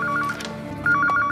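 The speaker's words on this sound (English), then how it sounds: "is that a phone ringing?" A telephone rings in two short bursts of warbling electronic trills, close and clear, with a brief pause between them.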